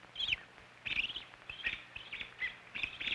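A robin gives repeated high, sharp chirps in short bursts, roughly two per second, moderately close against a quiet background.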